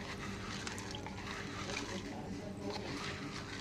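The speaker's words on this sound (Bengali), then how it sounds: "মাটিটা পরিষ্কার করে নিচ্ছি" Aquarium soil for colored shrimp being rinsed by hand in water, a close, continuous sloshing and trickling wash with a steady, even level throughout, with no talking.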